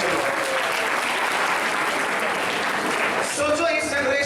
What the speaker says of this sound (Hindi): एक बार आप सबके लिए वापस जोरदार तालियां होनी चाहिए